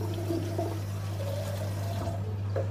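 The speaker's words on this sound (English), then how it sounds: "And I add a little bit of warm water." Warm water pours steadily into a neti pot already holding table salt, a continuous close trickle and splash running the whole time over a low steady hum.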